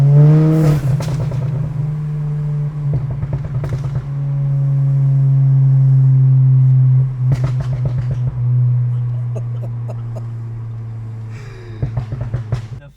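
A VW Golf GTI Mk7 four-cylinder with an X-Force catback and Varex valved muffler revs hard several times, a deep throaty roar swelling into a long held drone, with sharp crackling pops between revs.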